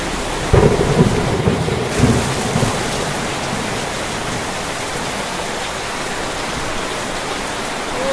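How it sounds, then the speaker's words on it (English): Heavy rain pours during flooding in a slum area, a loud, dense and steady wash of water with a few rumbling bumps early on and no talk. "Oh, flooding"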